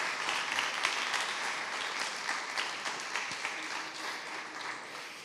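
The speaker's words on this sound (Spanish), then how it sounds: "yo creo que un aplauso también para ellos" Steady applause from a sizable conference audience, a dense wash of many hands clapping continuously at an even level throughout.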